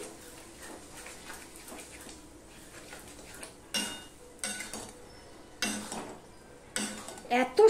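Grated green mango and ginger being stirred in a pan for a sweet, sour and spicy mango garlic pickle; soft scraping gives way to sharper spatula clatters against the pan that grow louder and more frequent toward the end.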